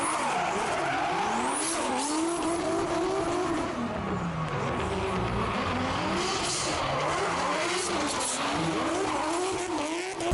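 Race car engines, mostly Nissan GZ-series cars, rev hard and continuously at a drifting event in Australia, with rising and falling pitch sweeps and tire screeches, loud and close, with a constant roar throughout.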